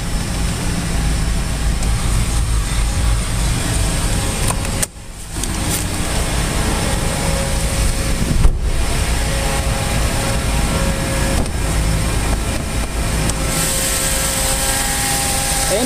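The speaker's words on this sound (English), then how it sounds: "It's a smooth running 4-cylinder engine." A 2012 Mazda 6 with a four-cylinder engine runs steadily, its loud, even drone filling the clip, broken by a brief dip and a few small knocks or clicks along the way.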